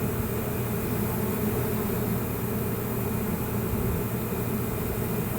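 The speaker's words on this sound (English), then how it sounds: "Too bad that air conditioner's been running all day" A household air conditioner runs all day near a honeybee hive removal in Lake Wales, Florida, giving a steady, loud broadband hum and hiss that stays even and unbroken throughout.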